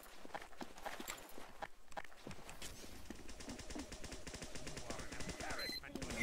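Sentry guns firing in Team Fortress 2 during a balloon race match, rapid repeated gunfire bursts at a steady clatter amid other game noise and explosions, fairly loud and continuous throughout.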